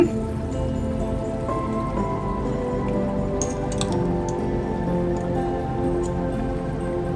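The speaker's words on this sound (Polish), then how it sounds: "I teraz wino. Wino około 150 ml." About 150 ml of wine poured for a duck breast salad sauce, giving a steady, close trickling splash that continues evenly from start to end.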